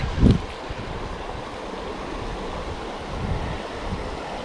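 A small creek on a canyon trail at Petit Jean State Park flows with a steady, close rush of water. A brief bump sounds near the start, then an even wash continues.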